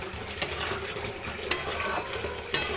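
Masala for restaurant-style shahi paneer sizzles in oil while a spatula stirs it steadily, with sharp scraping clinks against the pan at roughly one-second intervals over a constant frying hiss.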